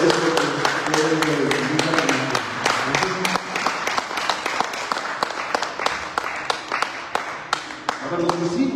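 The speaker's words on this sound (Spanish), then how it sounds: "Si no les dan un aplauso" A church congregation claps, a burst of applause with sharp individual claps that thin out into scattered clapping, with a voice heard briefly at the start and again near the end.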